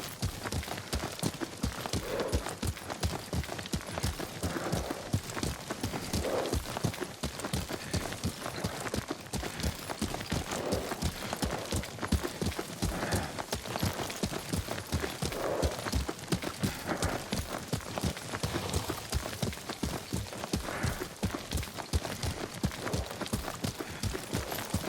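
Rapid, steady clip-clop of horse hooves galloping in the video game Ghost of Tsushima for the whole stretch, close and even, with a faint whinny-like tone now and then.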